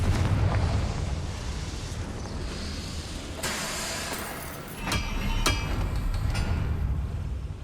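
A Confringo blasting spell explodes in the video game Hogwarts Legacy, with sharp bursts around the middle and a rumbling blast near the end over a steady low roar.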